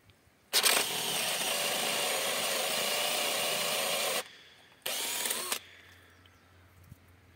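An Einhell PXC TE CD 18/40 18V cordless drill runs in a long steady burst, pauses briefly, then whirs again for a shorter second run, loud and close with no talking.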